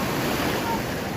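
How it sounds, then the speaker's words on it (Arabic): Strong sea waves washing up a beach at a seaside holiday spot, a continuous broad roar of surf and wind close to the microphone with no pauses. "والموجه جايه لحد عندي، البحر كله جاي لحد"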